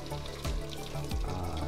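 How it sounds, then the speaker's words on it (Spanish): Water poured into a pot of pork rib stew on the stove, a steady splashing pour with a brief surge of liquid near the start and again toward the end, close and moderately loud with no talking. "Voy a echarle un poquito de agua, que no se queme eso."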